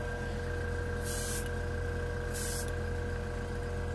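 An air compressor for an airbrush runs with a steady hum and a constant high hiss, while two short bursts of spray cut in and out over the drone.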